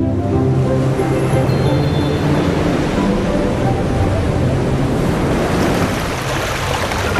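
Strong sea waves surge and crash around a small fishing boat in the West Philippine Sea, with heavy continuous roaring water and wind buffeting the microphone, loud and close.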